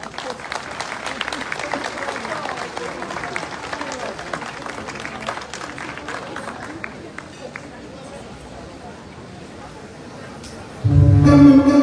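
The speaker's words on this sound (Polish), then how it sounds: "Ogromne brawa!" An audience claps at a Polish folk performance of a Kujawiak dance and the song Czerwone jabłuszko. The applause fades out over several seconds before loud music bursts in near the end.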